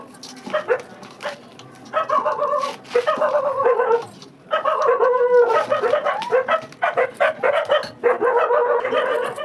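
Dogs bark in a village in short, close, loud bursts, mixed with yips and whimpering that continue throughout with only brief pauses.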